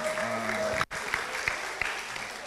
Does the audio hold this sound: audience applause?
yes